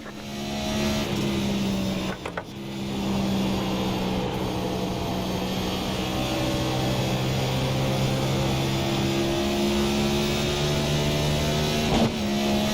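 NASCAR Cup Series race cars at Rockingham, a continuous loud engine roar with sustained high-pitched droning tones, cars passing in a dense pack throughout with brief dips in sound.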